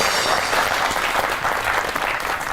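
Studio audience applause welcoming guest Amina Azmat onto a comedy show stage, a full, steady wash of clapping that holds evenly throughout with no talk over it.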